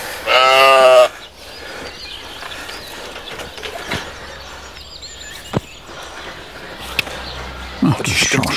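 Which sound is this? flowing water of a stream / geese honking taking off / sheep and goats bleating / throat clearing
sheep and goats bleating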